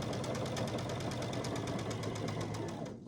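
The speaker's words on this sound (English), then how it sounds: "I'm just going to keep sewing." A home sewing machine chain piecing quilt blocks runs steadily at speed, its rapid even needle clatter continuous until it stops right at the end.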